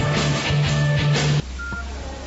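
Repeated telephone ringing tones of an unanswered call pulse in a steady rhythm over a line hiss, then cut off, followed by a brief faint beep.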